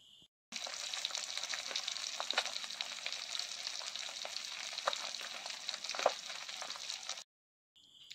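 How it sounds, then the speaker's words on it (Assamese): Small fish sizzle steadily in hot oil with turmeric and salt, a loud, continuous frying hiss with faint crackles that runs for about seven seconds before stopping abruptly, with no talking. "মাছটা এখন হালধি আর নিমখ অকমান দিয়ে কোনে ফ্রাই করে লিব প্রথমে"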